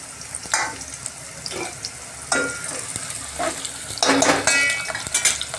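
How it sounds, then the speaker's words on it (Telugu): Onions hit hot oil and sizzle steadily, with repeated scraping and stirring clatter from a pan and utensil close by, with no talking. "నూనె వేడింది ఆనియన్స్ వేసేస్తున్నా"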